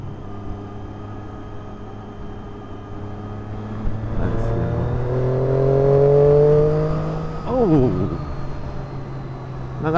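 Triumph Daytona 675 motorcycle engine revving up into the mid-range, a steady rising harmonic drone that swells over several seconds and drops off with a quick downward sweep, with a voice talking over it.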